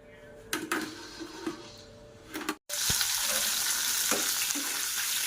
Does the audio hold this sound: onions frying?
yes